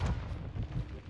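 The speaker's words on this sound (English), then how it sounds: "Just died by that grenade." A grenade blast in Call of Duty: Modern Warfare II on the Shoothouse map, a dense low boom with rumbling debris lasting about a second, loud and close, with a second thump near the end.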